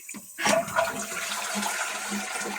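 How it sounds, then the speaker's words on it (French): A household toilet flushes up close after a repair to a cistern with no water, opening with a sharp rush of water that settles into steady running and refilling. "si j'appuie sur la chasse d'eau"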